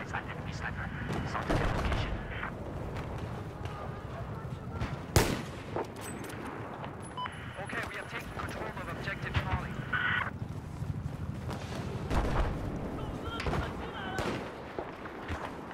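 Battlefield 4 combat with gunfire and an RPG launch: dense, continuous bursts of shots and blasts layered over a rumbling battlefield, with a sharp loud report standing out midway and talk running throughout.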